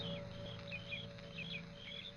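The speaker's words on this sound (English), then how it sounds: "The sound of birds and crickets seemed loud in my ears" Birds and crickets in a radio drama sound effect, faint chirps and short warbling bird calls over a steady low hum and soft insect drone, quiet and continuous with no voices.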